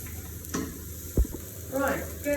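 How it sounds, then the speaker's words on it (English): Onions fry in a pan with a soft, steady sizzle, nearby and fairly quiet, broken by a couple of brief clinks and stirring scrapes. "the onions are frying"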